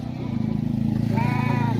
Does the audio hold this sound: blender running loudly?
no